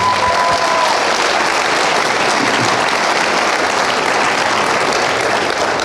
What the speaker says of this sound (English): Let's give Irene one more round of applause.